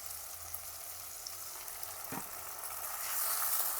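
Small mixed river fish cook in a pan with a little water just added, giving a quiet, steady sizzle and bubbling with a soft clink partway through.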